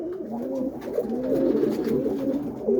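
Pigeons in a Boston roller coop coo continuously and close, a low rolling murmur as a cock courts a hen, with no voices.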